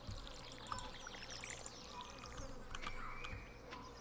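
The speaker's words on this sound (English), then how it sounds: "I definitely hear bees" A low, steady bee buzz from the video game Stardew Valley hums quietly behind a soft trickling wash, with faint scattered clicks over it.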